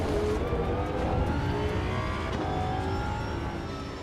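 Racing car engine, a BMW in the video game Assetto Corsa Evo, revving and shifting through rising and falling whines, loud and continuous with a slight fade toward the end.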